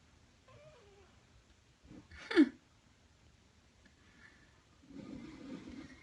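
A soft, short kitten mew rises once amid near-silence, followed by faint rustling and a quiet murmur of movement.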